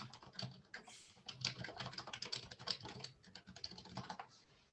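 Steady run of computer keyboard keystrokes, rapid and uneven in rhythm, close and moderately loud throughout with no talking over it.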